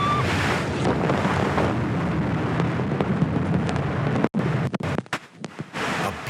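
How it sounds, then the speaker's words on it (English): Storm wind on the Black Sea roars as steady, loud broadband buffeting against the microphone, then breaks into choppy gusts with brief dropouts toward the end. "It's during a storm on the Black Sea."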